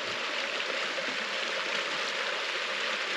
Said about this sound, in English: This lovely stream.